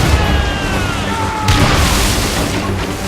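Naval cannon fire in Assassin's Creed Rogue booms across the water during a ship battle, a dense, continuous barrage of blasts with a louder hit midway, under crew shouting.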